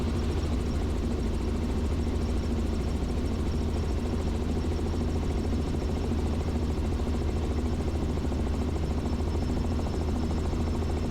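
A Robinson R44 two-bladed helicopter in steady cruise flight over a river valley, heard from inside the cabin as a loud, constant rotor and engine drone with a rapid blade beat throughout.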